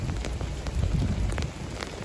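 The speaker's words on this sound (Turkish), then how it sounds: "çok feci yağmur yağmaya başladı gerçekten. Hatta dolu yağıyor şu an." Heavy rain with hail falling in the fishing village of Marsaxlokk, Malta: a steady, dense outdoor wash of rain with scattered sharper hits throughout, fairly loud and close, with no talking.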